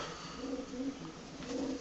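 Faint, throaty coos repeat in short pulses from racing pigeons inside a loft in Koszalin, Poland, set against a steady background hiss with no speech.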